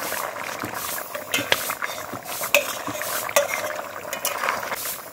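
Ground garam masala paste goes into a simmering country chicken curry with potatoes, as a spoon scrapes and clinks against the pot over a soft bubbling sizzle, with a few sharp metallic taps.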